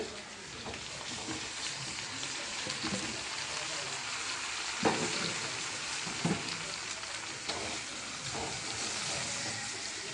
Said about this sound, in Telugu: ఉల్లిపాయలు బాగా ఏగిపోయినాక ఈ చామదుంపలు వేసుకోవాలి.